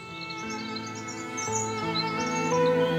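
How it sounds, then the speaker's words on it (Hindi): Birds chirp and call in short, repeated tweets, fairly faint and close, over a steady tonal background hum, with no one speaking. "इन परिंदों के चहचहाने की आवाजें मुझे अपनी बीवी के पास सोने नहीं दे रही।"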